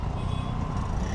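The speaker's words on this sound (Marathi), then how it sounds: "फायनली ट्रॅफिक लागलेली आहे मजबूत" Heavy road traffic in Kalyan in the evening, a dense steady rumble of car and truck engines with a continuous low drone and occasional faint higher tones, close and constant throughout.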